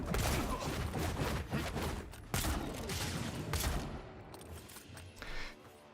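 Pistol fire in the fantasy video game Avowed, a rapid burst of sharp overlapping shots and impacts through a busy combat mix, tailing off into a quieter moment.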